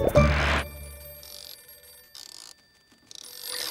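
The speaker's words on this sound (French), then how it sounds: "Téléphone!" A cartoon telephone rings in a few short bursts separated by pauses, fairly close and clear, after a brief loud opening sound.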